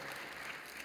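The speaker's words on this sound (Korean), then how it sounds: "여러분께 박수로 환영하시죠" A church congregation applauds to welcome newcomers at a Sunday service, a brief steady wash of clapping from many hands filling the hall at moderate volume.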